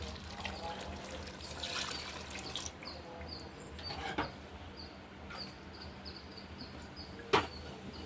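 Measured water pours into a pot on a stove for biryani with a soft splashing trickle, then trails off, followed by a quiet kitchen with a clink of metal.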